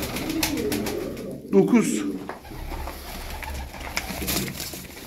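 Tumbler pigeons in a loft coo softly in several low, throaty bursts. Someone talks in Turkish over the birds, counting them.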